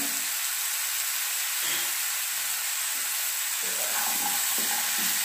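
Cashews and raisins stirred into a pickle in a hot pan, a constant loud sizzle with light rattling and scraping of the spoon, no voices.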